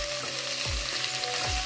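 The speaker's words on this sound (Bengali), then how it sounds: "সমস্ত সবজি মিনিট 5 ভাজার পর" Vegetables fry in a pan for a Bengali bottle gourd leaf and stem curry, a loud continuous sizzle with a few stirring scrapes, no talk.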